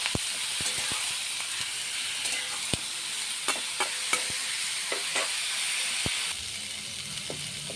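Spices with turmeric, ground cumin and green chilli are stirred in a hot pan for a radish fish curry, a steady sizzle broken by repeated spatula scrapes and taps, close and fairly loud, with no talking.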